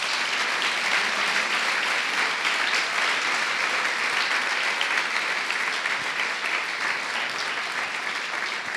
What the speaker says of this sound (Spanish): A ver, un aplauso para Dios.